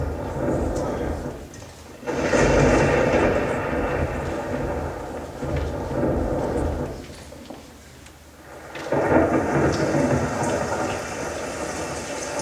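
Heavy rain with rolling thunder comes from a stage effect during a junior high school production of Singin' in the Rain. It forms a loud, steady roar that swells and dips in several waves, with muffled voices underneath.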